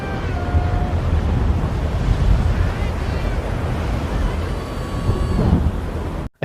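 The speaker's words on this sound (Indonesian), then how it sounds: "angin kencang disertai salju mengalahkan suara mereka" Strong wind with snow blowing across a mountain in a climbing film, a loud, dense, continuous roar that rumbles low throughout and cuts off abruptly at the end.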